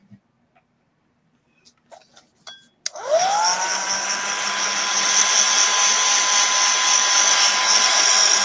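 A hair dryer switches on and blasts steadily to dry a wool craft piece, a loud continuous whooshing drone that runs to the end after a few quiet clicks and handling taps.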